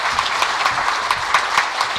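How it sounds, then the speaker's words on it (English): An audience at a symposium on changes in Narragansett Bay applauds its panel, a steady, dense round of clapping from many hands that fills the room evenly without letting up. "I just want to give our panel a round of applause"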